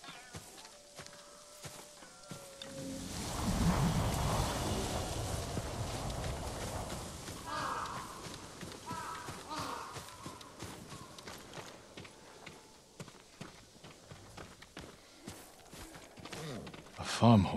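Horse hooves clip-clop at a stable in Ghost of Tsushima, a steady rhythm of hoofbeats that swells then settles into scattered steps, with voices talking over them.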